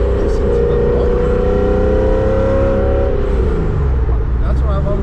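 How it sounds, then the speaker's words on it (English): A supercharged 1994 BMW M8 E31 with a swapped-in M5 V8 and a loud exhaust holds a loud, sustained engine drone whose pitch climbs and then eases off, heard close, with some voice faintly present. "Listen to the motor."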